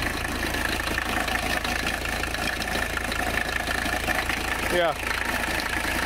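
A 1985 Mercedes 300CD engine idles steadily and evenly close by, a continuous low rumble with a brief word spoken over it.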